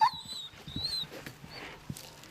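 A dog that has been beaten and thrown from a window gives faint, brief high whimpers over soft rustling and shuffling, close by.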